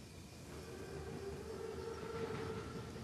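Armored Panzerzug train approaching in Call of Duty WWII, a steady rumbling roll with a sustained tonal hum building gradually, heard alone without talk.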